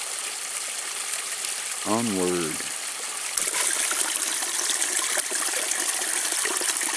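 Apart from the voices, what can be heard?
filling containers with drinking water from a stream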